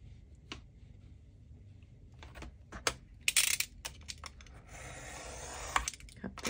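Scissors trim the edge off a Dollar Tree gift bag cover, with scattered small snips and taps, then a brief sustained rasp of blade through material, close and fairly quiet.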